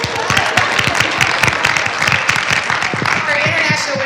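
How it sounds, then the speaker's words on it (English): An audience at an International Women's Day summit claps steadily, dense and fairly loud for a few seconds, with a voice speaking over part of it. "Let's give it a round of applause."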